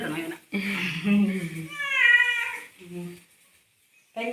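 A cat gives one drawn-out meow up close while someone talks before and after it.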